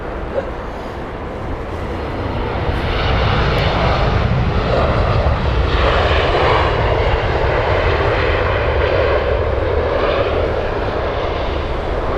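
An airliner passes overhead at Heathrow Airport, a loud, broad jet roar that swells from a quieter start and holds steady for many seconds, with no talk over it.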